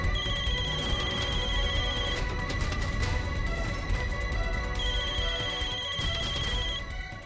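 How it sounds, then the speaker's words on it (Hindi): A telephone rings with a repeating electronic ringtone, loud and close, in two bursts separated by a short pause, with no speech. "इंस्पेक्टर साहब के फोन आ।"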